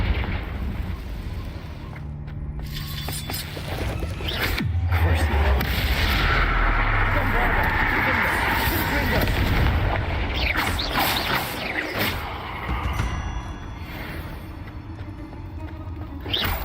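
Confringo fire-spell blasts in the game Hogwarts Legacy, a loud rumbling barrage of booms and crackling impacts over a sustained roar, with a voice shouting intermittently.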